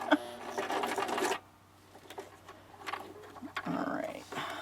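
A sewing machine runs fast while stitching paper, a close mechanical whirr that stops, leaves a quiet gap with faint handling sounds, then starts up again near the end.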